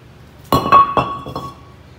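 Brake disc coming off the front wheel hub of a Buick LaCrosse: a sharp metallic clank followed by a few ringing clinks that fade over about a second.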